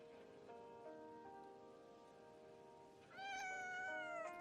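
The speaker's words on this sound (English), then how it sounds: "I guess the ghost cat hasn't moved on yet." A ghost cat in Wuthering Waves gives drawn-out tonal meows, a sustained cry followed by a louder rising wail near the end, set against a faint rain-like hiss.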